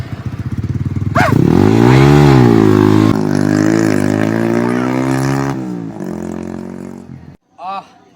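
A motorcycle engine in a Sundanese comedy sketch revs up loudly and holds a strong, wavering drone for several seconds, then drops away, followed by a short voice near the end.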